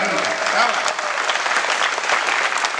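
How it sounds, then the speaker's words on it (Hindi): A comedy show audience at a Jaipur arts centre claps steadily and fairly loudly, a dense wash of applause that holds for the whole stretch with no talk over it. "चलो एक बार जोरदार तालियां बजाइए मस्ती से"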